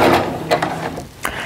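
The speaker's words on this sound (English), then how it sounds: "I'm gonna line that up and I'm gonna start sewing down." A sewing machine runs a regular quarter-inch seam through quilt fabric pieces for a star quilt, making a close, steady mechanical whir with small clicking bursts and no talking.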